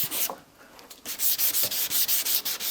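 A car headlight hand-sanded with 360 grit sandpaper in horizontal strokes, a close, hissing rub that pauses briefly then settles into a quick, even back-and-forth rhythm of about eight strokes.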